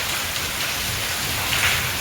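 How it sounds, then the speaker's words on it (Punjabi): Heavy rain pours down steadily, a dense, continuous hiss of water hitting surfaces close by. "ਲੋ ਬਈ ਮੀਂਹ ਆ ਗਿਆ ਬਹੁਤ ਜ਼ਿਆਦਾ"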